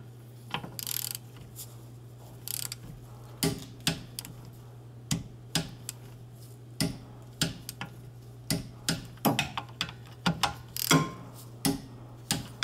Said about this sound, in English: I hope you heard the torque wrench click